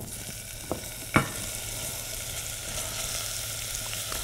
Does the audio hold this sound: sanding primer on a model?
no